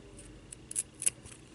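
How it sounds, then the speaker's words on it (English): Scissors snipping off string after a hot-glue wrap on a craft ornament, a few quiet, quick close cuts clustered within a second and a half. "then I'm going to come in and snip that off"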